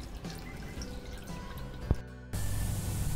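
Water drips from curdled milk hung in a cotton cloth, with soft trickles, one sharp, distinct drop, and then a steadier, louder run of draining liquid.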